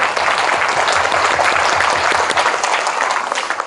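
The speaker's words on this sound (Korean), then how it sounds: "우리 하나님께 큰 박수로 한번 영광 드려요." A church congregation in Sejong claps in praise, a dense, loud burst of applause sustained evenly through the whole moment.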